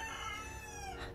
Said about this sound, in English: That's our rooster back there.